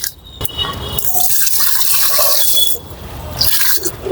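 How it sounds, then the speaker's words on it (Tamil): Water mixed with Epsom salt being poured onto a potted hibiscus, a steady close splashing and trickling stream with a brief break partway through, and no voices. "தண்ணி ஊற்றிட்டோம் ஃப்ரெண்ட்ஸ்."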